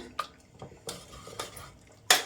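Cooked lentils for tomato sambar are mashed in a pot, giving a few soft scraping and knocking utensil sounds spaced irregularly, with a sharper clink at the end.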